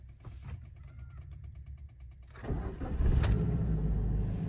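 A 2010–2020 second-generation Suzuki Swift's engine cranks briefly and then catches, settling into a steady, fairly loud idle close by, with no talking.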